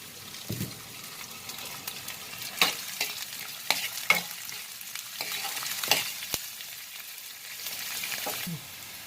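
Sliced onions for a cauliflower veg biryani frying in a pan, a steady soft sizzle broken by several sharp scrapes and clinks of a spoon stirring at irregular moments, no talk.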